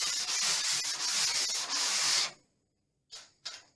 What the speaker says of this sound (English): when you have sanded down, again, generally just rubbing the broad area